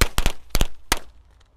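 Small mercon korek firecrackers, set in a circle so they light together, go off close by in three sharp, loud bangs, a double pop, another double pop and a single crack, followed by a short fading tail.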